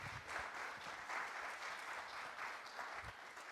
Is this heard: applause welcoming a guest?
yes